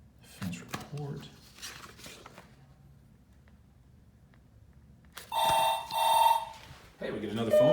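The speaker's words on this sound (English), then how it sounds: "we get another phone call" A telephone rings with an incoming call inside a school police office: two loud electronic ring bursts close together, with speech and office noise before it and a voice picking up right after.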